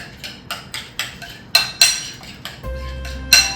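Spoon scraping and clinking against a bowl while chicken breast sandwich filling is mixed, with repeated sharp clinks in a steady rhythm, close and fairly loud.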